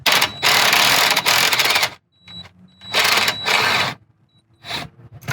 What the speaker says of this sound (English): I'm just going to go ahead and zap it off with the impact